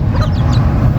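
Rooster on a Thai farm giving a short burst of clucking calls near the mic, over a steady low background hum.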